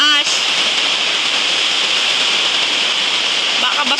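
Heavy rain pours down steadily in a loud, dense wash during an early typhoon-season storm at a house, with a brief pause near the end.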